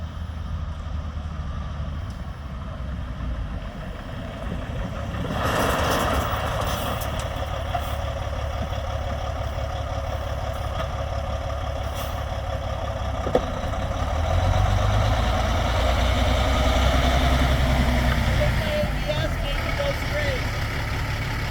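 A truck engine drones and rises in revs during power sliding meant to loosen something, a steady heavy rumble that swells midway and stays loud, with voices talking over it.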